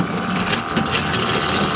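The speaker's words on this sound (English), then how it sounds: "Flip this button and that'll start the pump." Joolca HotTap V2 camping shower pump runs with a steady, dense whirring hum and rushing water flow, continuous and fairly close, with no voices.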